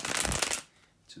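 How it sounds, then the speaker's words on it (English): A deck of tarot cards is shuffled in a quick, close riffling burst lasting about half a second, then goes quiet. "just a second, guys, to shuffle the cards"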